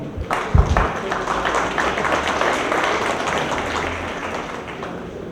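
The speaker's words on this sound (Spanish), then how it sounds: "bienvenido y un aplauso, por favor" An audience at a conference talk applauds to welcome a speaker, a burst of clapping that starts with a few sharp claps, then settles into a steady, moderately loud patter that slowly fades.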